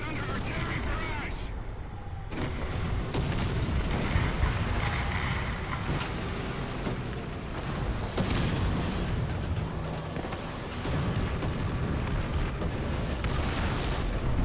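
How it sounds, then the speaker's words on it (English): Artillery barrage in a tank video game, a steady rumbling roar of distant explosions and booms rolling on throughout, with a sharper blast near the middle. "Our sector is under artillery barrage."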